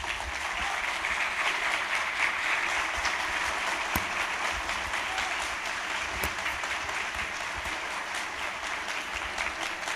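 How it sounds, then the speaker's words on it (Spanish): An audience gives a long, strong round of applause for a speaker, dense and sustained throughout, with a couple of sharper claps standing out and no speech over it. "reconocemos con un fuerte aplauso la excelente participación del doctor Jorge Pesqueira Leal"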